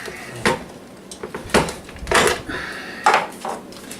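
A spoon scoops chicken quesadilla filling from a pan, giving a few short scraping clinks and metallic scrapes spaced irregularly, close and moderately loud.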